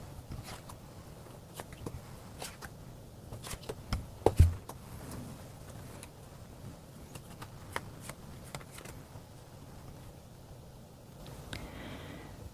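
Tarot cards are shuffled softly and intermittently, with quiet riffling and flicks spread across a hushed setting and a couple of sharper taps near the middle.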